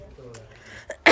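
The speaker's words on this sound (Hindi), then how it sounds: "सुखले खांसी आ गया।" A single dry cough from a teacher during a maths lesson, a short harsh burst near the end after quiet room tone.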